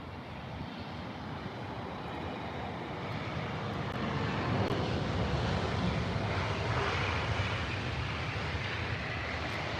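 An Airbus A319 arriving from Faro lands at Heathrow, a faint, distant engine rumble and hiss that swells gently midway and holds steady, with no talking.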